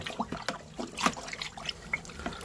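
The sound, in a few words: stirring birch sap in a brewing bin with a thermometer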